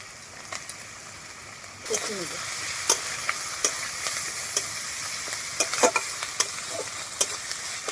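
Onion paste with ginger-garlic paste, cumin and chilli powder fries in oil as it is stirred, a steady close sizzle punctuated by regular scraping taps of the spatula against the pan.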